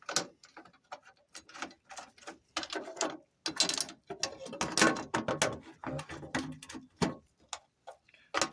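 A hand ratchet clicks as it tightens the 12 mm cover bolts on a Daihatsu Midget II during an oil change. Bursts of rapid close ticking repeat throughout, with no voices.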